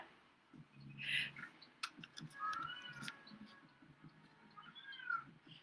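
A pet cat yowls loudly in the background, several drawn-out meows rising and falling across the moment, with faint household ticking underneath and no one speaking.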